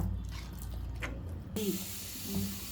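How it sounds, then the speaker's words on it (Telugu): Water pours into a pan of rava for katte pongali, a steady rushing splash for about a second and a half that fades into quieter stirring and low kitchen noise. "ఇప్పుడు ఇవి నీళ్ళు ఇందులో పోసుకుందాము"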